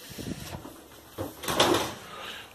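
A kitchen oven door is handled as a tray of roasted almonds with salt, chilli, cumin and lime juice goes back in, giving soft scrapes and a dull clunk with a brief metallic rattle.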